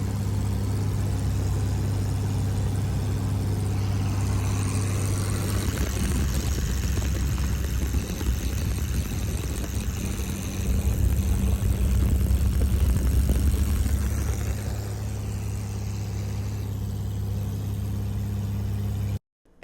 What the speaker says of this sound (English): I got to fly in a 1946 Fairchild airplane here.